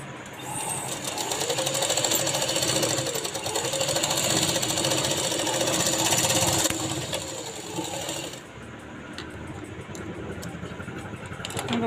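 A sewing machine stitches across the shoulder of a blouse with a steady, close whirring drone that eases to a lighter hum near the end.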